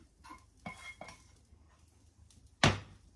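Garlic being stirred in a pan, with a few soft scraping clinks of utensil against pan, then one sharp, louder metallic knock near the end.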